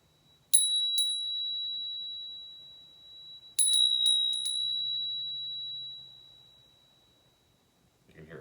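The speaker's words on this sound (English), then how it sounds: "this one makes the most piercing note that I've got" A bright, piercing pilgrim's bell rings twice, then several quick strikes follow, each tone hanging and slowly fading in an otherwise quiet space.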